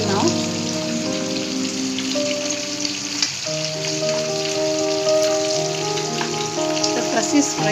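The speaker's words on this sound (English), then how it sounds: "The fish is frying now." Sardines fry in a pan with continuous loud sizzling and crackling oil, while steady tonal hums from kitchen appliances run underneath.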